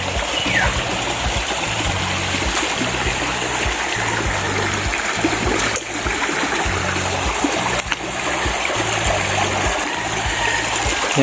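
Steady rushing of creek water, a continuous broadband wash with no pauses and no voices.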